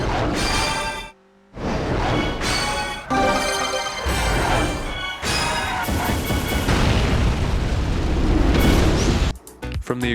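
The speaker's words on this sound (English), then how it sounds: "From the explosions of your star rating to the subtle snappy synth stabs when you steal first place" Arcade-style explosion effects from the star rating display in the racing game Burnout, a run of loud, dense bursts and booms stacked over music, with a brief drop near the start and a sudden cutoff toward the end.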